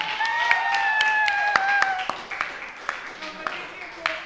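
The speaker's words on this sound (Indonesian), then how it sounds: "Ya udah, aplaus dong buat kita semua" A small group in a classroom session bursts into scattered clapping, the claps light and uneven, rising over a cheerful voice and then thinning out into a few final claps.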